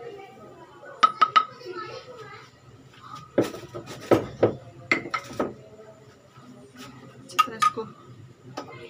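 Yogurt stirred in a bowl for chicken karhi brings sharp clinks and scrapes of a spoon against the dish in uneven bursts, close up, with someone talking between them.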